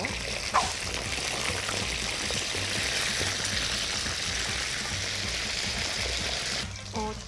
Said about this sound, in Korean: 세 번째 튀김에서 한 3분 정도만 튀기시면 돼요